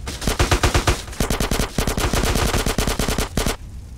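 Rapid automatic rifle fire in Grand Theft Auto San Andreas, loud and close, a fast rattling burst with a brief break before another long stream of shots.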